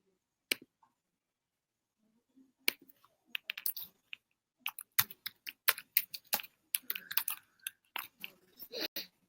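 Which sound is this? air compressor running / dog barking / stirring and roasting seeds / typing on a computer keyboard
typing on a computer keyboard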